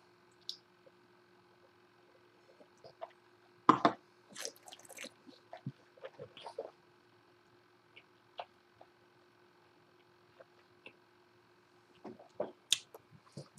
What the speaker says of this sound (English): Now for a rinse on the Upshot.